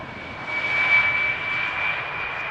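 A narrow-body jet airliner landing at Amsterdam Schiphol Airport gives a steady, moderately distant engine roar with a thin high whine, swelling slightly and then holding.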